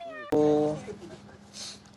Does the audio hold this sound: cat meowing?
yes